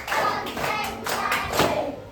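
Classroom of schoolchildren clapping in unison during a counting exercise at an Islamic primary school, several rhythmic group claps spread over two seconds, fairly close and steady with a faint murmur of voices.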